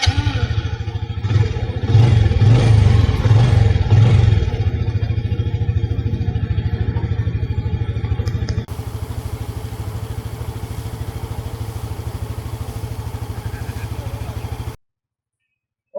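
A Yamaha PG-1 motorcycle starts and runs close by in Chiang Mai, Thailand, its engine revving loudly at first and then settling into a steady, lower idle for the rest of the clip.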